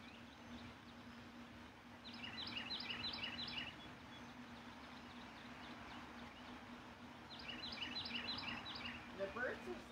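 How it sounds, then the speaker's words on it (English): Faint bird chirps come in two brief bursts of quick twittering over a steady low hum and background murmur. "Yeah, the birds are singing wonderfully."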